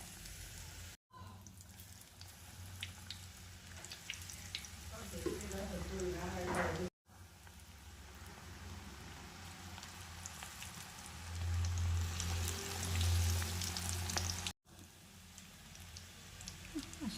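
Egg pakoda coated in gram flour batter sizzles in hot oil, a soft steady crackle that swells as pieces drop in, heard under someone speaking.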